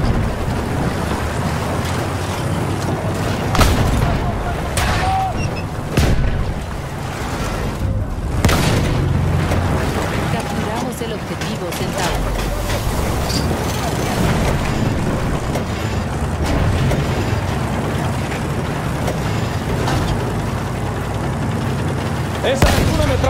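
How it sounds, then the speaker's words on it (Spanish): Enemy machine gun fire rattles in a video game, dense bursts and booms running steadily throughout amid loud battle noise, with no clear talk. "Ametralladora enemiga a la vista."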